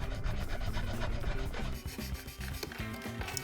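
Melted plastic inlays being scraped out of a burned Squier Stratocaster neck, repeated close rasping strokes in a quick rhythm, no talking.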